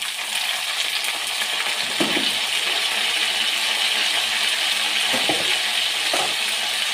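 Cut drumstick (moringa) pieces tossed into onions frying in a pan, giving a steady hiss of sizzling oil with a few soft thuds as the pieces land.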